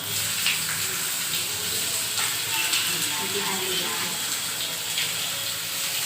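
Onion frying in oil for a Kokani-style prawn curry, giving a steady, close sizzle that hisses continuously throughout, with a voice speaking faintly beneath it.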